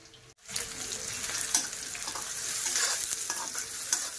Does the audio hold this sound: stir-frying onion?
yes